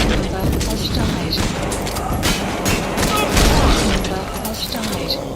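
Bursts of gunfire in Metal Gear Solid V: The Phantom Pain, played on PC with mods, crack and rattle continuously in a dense, loud volley amid a chaotic firefight, with voices shouting underneath.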